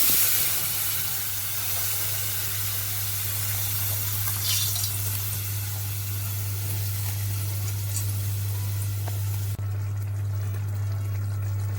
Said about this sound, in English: I'm just frying up some garlic in it.